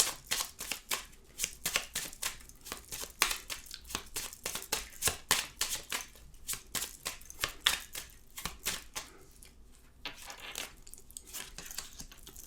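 Tarot-style cards are shuffled and drawn with a rapid run of crisp riffling flicks and soft slaps at close range, pausing briefly near the end before a few more handling taps; no voice over it.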